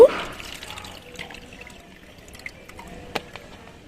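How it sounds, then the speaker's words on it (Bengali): Tea brewed from fresh, unused leaves is strained, with a soft pour and trickle of liquid that fades into faint dripping and a few small clinks. "এই যে ছেঁকে নিলাম এটা কিন্তু ফেলে দেব না"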